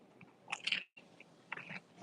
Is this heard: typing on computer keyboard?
no